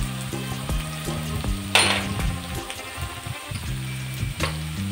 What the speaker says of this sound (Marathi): थोडीशी अद्रक लसूणची पेस्ट पण टाकून घ्यायची, ती पण आपल्याला तेलात परतून घ्यायची